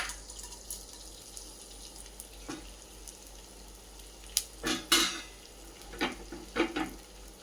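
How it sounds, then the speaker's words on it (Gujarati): Edible gum pieces frying in hot ghee give soft, quiet crackling and sizzling, with scattered pops and stirring clinks that pick up toward the end, and no talking. "હવે આપણે એમાં ગુંદ તળી લઈએ."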